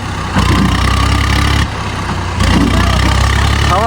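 Loud, steady low engine rumble of an idling tractor nearby, with slight shifts in intensity partway through.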